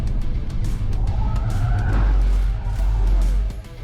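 A Changan Deepal electric car turns sharply right, its tires skidding with a rising screech over road rumble, loud and close, fading at the end.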